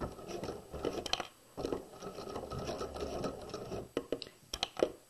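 A sewing machine back stitches a crotch seam on pajama pants at a regular stitch length, running in short close bursts with brief pauses and a few sharp clicks near the end.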